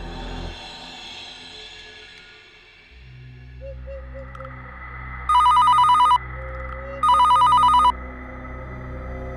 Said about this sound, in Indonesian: Tiba-tiba HP bapakku berbunyi